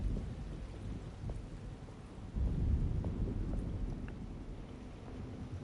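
An approaching thunderstorm in the video game Alone in the Dark: steady rain with low rolling thunder that swells partway through, with no talk.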